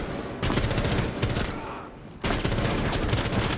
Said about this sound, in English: so I managed to take some shots through the door and get them